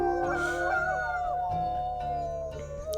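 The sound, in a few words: wolf howling back in video game Wildfire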